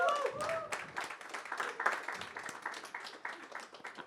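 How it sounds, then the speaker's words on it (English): An audience at a book launch applauds filmmaker Rakeysh Omprakash Mehra, a moderate round of clapping that opens under a brief voice and carries on unevenly, fairly close and not very loud. "a huge round of applause for Rakesh Om Prakash Mehra sir"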